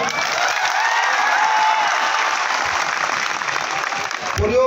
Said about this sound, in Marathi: आता फक्त पोरांनी टाळ्या वाजवा.